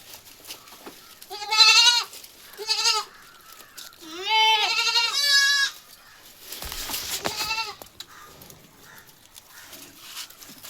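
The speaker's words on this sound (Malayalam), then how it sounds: "നല്ല ചുറുക്കുള്ളൊരാട് കേട്ടോ." A young dairy goat bleats several times nearby, loud wavering cries separated by short pauses, with some faint background noise between calls.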